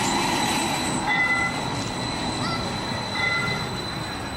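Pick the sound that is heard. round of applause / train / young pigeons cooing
train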